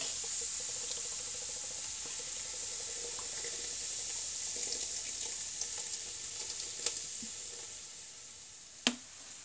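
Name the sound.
Diet Coke being poured over ribs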